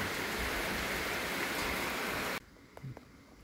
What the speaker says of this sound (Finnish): taas mun maalauskammiossa sataa vettä